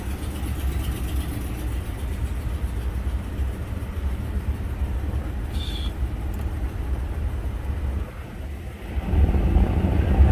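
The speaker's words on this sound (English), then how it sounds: "There you hear the blower coming in." A car's A/C blower fan runs with a steady whoosh over a low idling engine rumble, growing a bit louder near the end as the airflow picks up.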